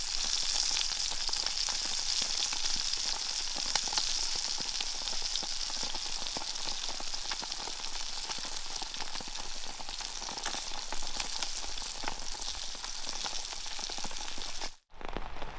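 Eggs and beans fry on a wood stove outdoors in a forest camp, a steady close sizzle and crackle running unbroken throughout, with light rain pattering in the background.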